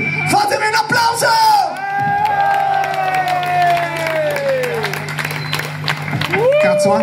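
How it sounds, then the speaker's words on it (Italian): Live concert crowd cheering and applauding for a band playing in the rain, with whoops and yells over sustained clapping and a loud droning tone underneath, and a voice shouting over the crowd. "Fatemi un applauso!"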